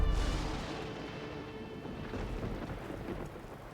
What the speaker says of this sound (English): let's make it rain here